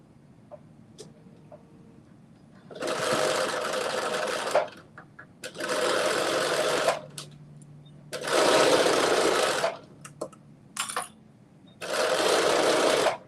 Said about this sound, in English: So again, I'm sewing the other shoulder seam.